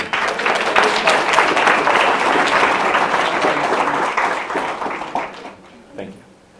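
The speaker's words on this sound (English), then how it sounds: "Let's give a round of applause to all our graduates." Sustained applause from a graduation commencement crowd honoring math, computer science and physics graduates, a dense steady wash of many hands clapping that thins and fades out near the end.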